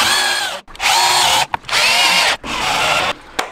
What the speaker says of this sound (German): jetzt hauen wir noch die Schrauben rein